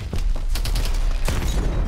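Heavy cannon fire against tanks in the video game Call of Duty Advanced Warfare: a dense volley of loud, overlapping gunfire blasts and booms in rapid succession, with no talk.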